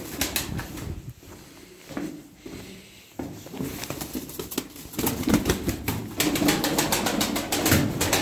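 Pigeons flap their wings in a loft, a quick rustling patter of feathers that comes in uneven bursts and grows busier and louder toward the end.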